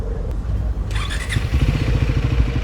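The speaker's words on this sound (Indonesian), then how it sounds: "Kita coba hidupin dulu mesinnya, bagaimana suaranya." A Triumph 400 motorcycle engine cranks with a brief starter whine, then catches and settles into a loud, close, lumpy idle with a quick rhythmic exhaust pulse.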